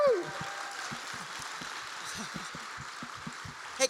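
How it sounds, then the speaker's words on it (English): An audience at a Q&A with Karen Gillan gives a soft, steady round of applause, faint and somewhat distant, with a few louder spots near the start and end. "Everybody get a round of applause for Ayla."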